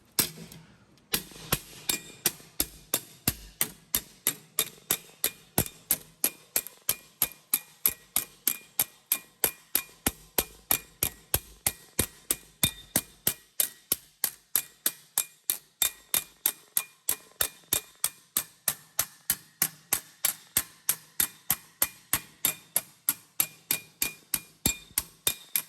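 A hammer taps a wire edge into a metal door skin being hand formed, producing a long, steady run of sharp metallic clinks, evenly spaced and close, continuing alone for the whole stretch.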